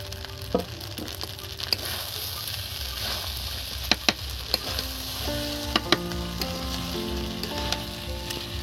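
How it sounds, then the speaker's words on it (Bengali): Fried rice made from ration rice sizzles steadily in a pan as fried eggs are added and stirred in, with a continuous close frying hiss broken by occasional sharp spatula clicks against the pan. "যে ডিমগুলো ভাজা আছে সেটা এবার এর মধ্যে দিয়ে দিচ্ছি"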